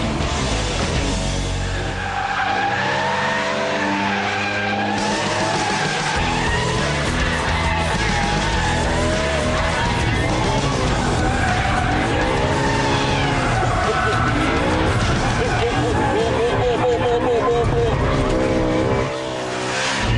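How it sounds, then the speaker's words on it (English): BMW M3 E92 cornering hard on track with the car's handling set to extreme, its engine roaring steadily at close range while tire squeal rises and falls through the corner, with a voice talking over it. "Now there's a little bit of understeer pushing into the corner, but as soon as you tap the throttle, you can get that back"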